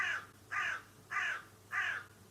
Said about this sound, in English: That's a really loud bird.